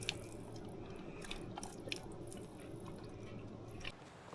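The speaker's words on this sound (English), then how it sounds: "Figured it would be a good time to stop and give the dog some water." A dog laps water outdoors in the woods, giving quick repeated wet slurps and drips in an uneven rhythm. It is close and fairly quiet, with steady background noise and no talking.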